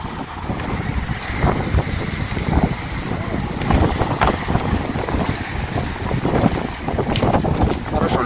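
Strong wind buffets the microphone on a Black Sea beach at Lazarevskoye, Sochi, with choppy surf. The gusty rumble runs steadily and loudly throughout, and distant voices come through faintly.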